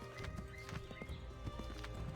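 A horse in an Assassin's Creed video game trots and gallops with quick, rhythmic hoof clops and a brief whinny, close and distinct over a soft background.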